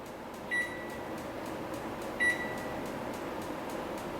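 Steady low hum of a running microwave oven, with two short high beeps early on over the constant drone.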